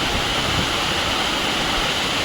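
Continuous rushing water of small waterfalls swollen after heavy overnight rain, a steady broad hiss filling the whole moment without pause.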